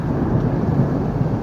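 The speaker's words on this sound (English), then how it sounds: "Why did it have to be a thunderstorm today of all days?" Steady, loud low rumble of thunder during a thunderstorm, a continuous roll with no voices.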